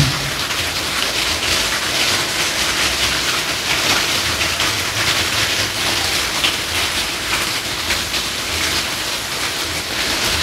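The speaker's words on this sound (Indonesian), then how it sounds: "dari atas nih masih terus mengucur deras hujannya" Heavy rain pours down from above in a dense, unbroken roar of water, loud and close, with no voices over it.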